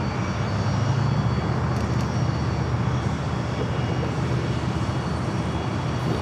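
A V-22 Osprey tiltrotor aircraft at San Diego airport gives a loud, steady, broadband engine and rotor roar with a strong low rumble that holds near and constant throughout, no voices.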